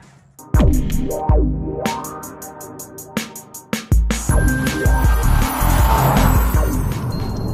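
A 2013 Jaguar F-Type V6S sports car, 375 brake horsepower, driven hard: loud engine revs rise and drop repeatedly with sharp gearshift cuts, then a sustained roar with some tire noise, close and with no talk.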